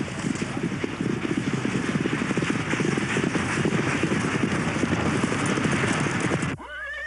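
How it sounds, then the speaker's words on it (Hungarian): A horse walks on a farm, its steady clip-clop of hooves running close and continuous for several seconds under a faint background rustle, then ending abruptly. "Van itt egy ló, amit meg szeretnék mutatni."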